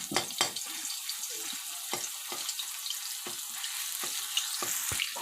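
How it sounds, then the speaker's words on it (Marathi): Ginger, garlic and coriander paste fries in hot oil with a steady bright sizzle, punctuated by repeated sharp scraping taps of a spoon stirring in the pan, close and fairly loud. "आता तेल तापलं आहे त्यात अद्रक लसूण कोथिंबीरची पेस्ट टाकून घ्या आणि तेलात व्यवस्थित मिक्स करून घ्या"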